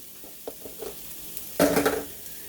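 Vegetables sauté in a pan for vegan red beans and rice, with a few faint taps and stirs followed by a short, louder burst of sizzling and scraping.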